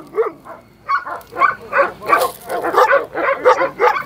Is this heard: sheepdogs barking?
yes